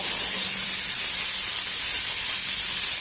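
Green beans frying in oil for a tamarind chutney, a steady, loud broadband sizzle that runs continuously and evenly throughout, close up and without any talk.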